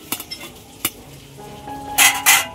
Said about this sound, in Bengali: পটল ভাজা করতেছি কড়াই।